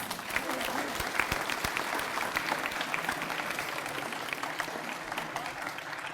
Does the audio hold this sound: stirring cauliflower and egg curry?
no